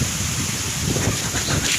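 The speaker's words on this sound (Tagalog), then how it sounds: "Medyo mahangin." Steady wind blowing across an outdoor microphone in a vegetable garden with okra plants, a broad continuous rush with low rumbling buffets throughout.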